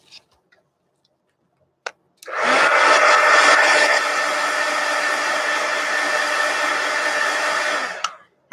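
A hair dryer blows on a freshly painted coloring page, switching on after a couple of soft clicks and whooshing loudly and steadily for about six seconds before cutting off.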